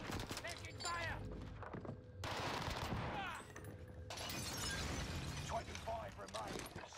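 Gunfire on Rebirth Island in Call of Duty Warzone: repeated bursts of shots and impacts amid game noise, fairly quiet overall, with voices talking over parts of it.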